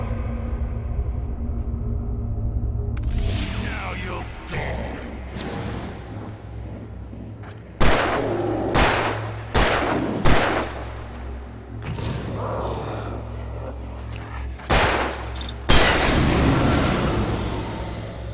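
Sharp gunshots in Alan Wake Remastered crack out in an irregular series, some doubled in quick succession, each a loud close burst that stands out over a low, droning background with no talking.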